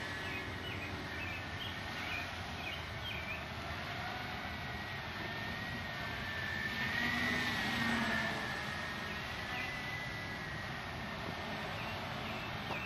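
A Walkera MX-400 quadcopter circles a yard, its steady buzzing whir holding at a constant level throughout and swelling slightly as it passes closer midway, with no one talking.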